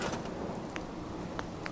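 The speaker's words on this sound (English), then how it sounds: "Back to raining again." Steady rain hisses in Fallout 4, moderately loud and continuous, with a couple of faint brief clicks on top and no voices.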